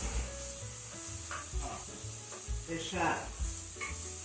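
Ginger, onion and garlic fry in a pan, a soft steady sizzle with occasional stirring scrapes, close by; a voice speaks a word briefly.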